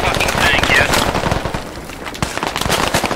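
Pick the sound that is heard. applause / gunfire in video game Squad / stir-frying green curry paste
gunfire in video game Squad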